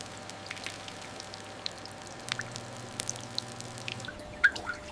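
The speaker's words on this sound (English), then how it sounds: "Droplets form, merge, and begin to move." Water droplets drip inside a water production plant where condensation forms, with scattered small plinks and drops over a steady low machinery hum, fairly faint and irregular.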